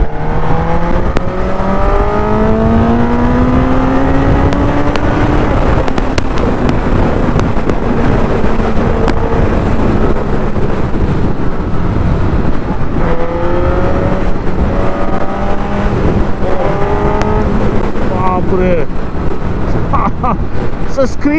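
A Suzuki Katana 1000cc motorcycle roars and revs while riding, its engine note rising and falling through gear changes under heavy wind rush on the microphone.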